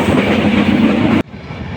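A moving train in Bangladesh clatters along the rails, loud and close, with steady wheel rumble and rhythmic clickety-clack that drops abruptly to a quieter hum after about a second.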